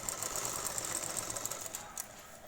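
A sewing machine stitches a shirt sleeve placket in a steady fast mechanical whir with rapid needle ticking, close and moderately quiet, with no voice.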